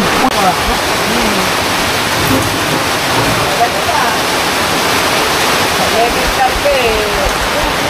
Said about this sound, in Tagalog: At ang lakas ng ulan.